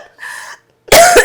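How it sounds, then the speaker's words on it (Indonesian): A single short, harsh cough bursts out loudly and close after a brief breathy sound and a moment of quiet. "Aduh, sampai batuk sih."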